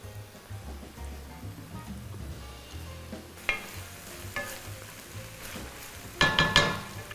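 Onion sizzles in a casserole as it browns, with pancetta added, a soft uneven frying crackle with scraping stirs and a few sharper bursts of sizzling toward the end.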